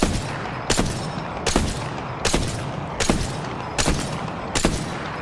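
Rapid sniper rifle fire in a video game, six loud sharp shots spaced evenly about three-quarters of a second apart, each followed by a short decaying tail, with no talking.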